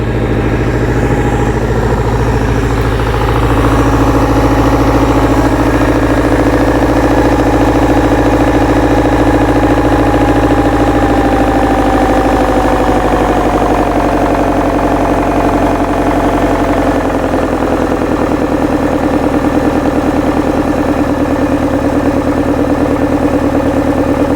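An engine running hard at high throttle, seemingly burning water and putting out steam, gives a loud, continuous droning roar with a strong steady tone that shifts slightly partway through.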